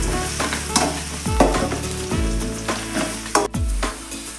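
Onion frying in about two spoons of coconut oil, a close sizzle broken by repeated scraping strokes of a spoon against the pan, several stirs in a loose rhythm with no talking.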